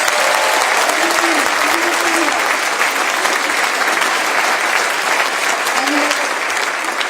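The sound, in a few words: audience applause for Morgan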